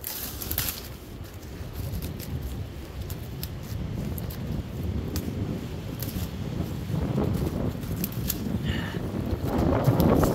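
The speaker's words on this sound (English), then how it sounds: "Yes, yeah, windy, folks." Wind gusting through an overgrown chapel cemetery with ivy-covered graves, a steady rushing and buffeting across the microphone that builds slightly toward the end, with no talking.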